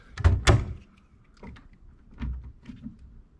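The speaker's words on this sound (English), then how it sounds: "a cupboard that doesn't want to open on that side" A stuck cupboard door in a hotel room in Peterborough is tugged: two sharp, loud knocking rattles come close together, followed by softer thuds and creaks as it is pulled again.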